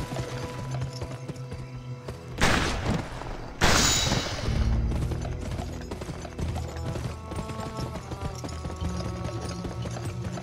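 In the video game GUN, a horse race against Honest Tom on Insane difficulty: rapid galloping hooves clatter steadily throughout, broken early by two loud gunshot-like booms a second apart, then the hoofbeats carry on.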